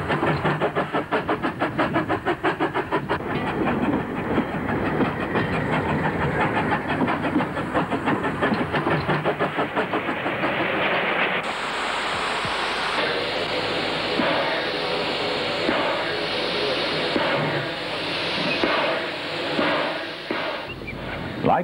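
Model railway train running on a PECO layout, a rapid rhythmic clatter of small wheels that fades after about eleven seconds, giving way to softer background sound with some overlaid voice.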